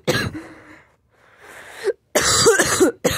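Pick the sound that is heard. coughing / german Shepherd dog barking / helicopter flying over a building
coughing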